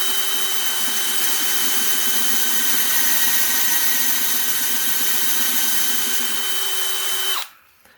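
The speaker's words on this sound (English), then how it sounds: "let me run this first hole just a little deeper" A Harbor Freight Forstner bit deepens a hole in a power drill, giving a steady, loud, high whine with a constant pitch that runs for about seven seconds and then cuts off abruptly.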